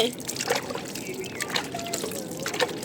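Water pours onto a tulsi plant, a light trickle and splash heard close by with people talking over it.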